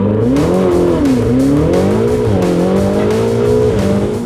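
Ferrari 488 with a twin-turbo V8, revving hard out in the fields, loud and close, the engine pitch rising and falling repeatedly with sharp exhaust crackles and pops.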